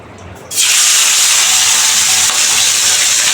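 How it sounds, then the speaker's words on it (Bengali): Fish pieces coated in salt and turmeric drop into hot oil in a wok, and a loud, steady sizzle starts abruptly and continues without talk. "এখন মাছগুলি ভাজমু, একে একে ভাজা শুরু করি।"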